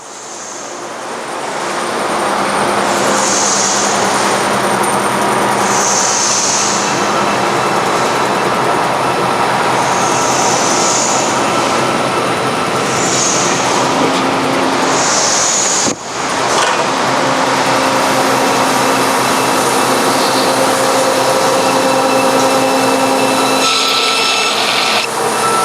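A bandsaw fitted with a scallop blade cuts through 3 pound fiberglass, giving a loud, steady, unbroken whir that runs nearly the whole time, with one brief dip partway through.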